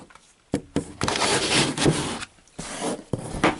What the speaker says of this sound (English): That's the sound of the other figures falling over.